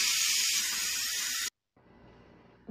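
A pressure cooker of kabsa rice and meat vents steam in a loud, steady hiss that cuts off abruptly, then resumes more quietly after a short pause.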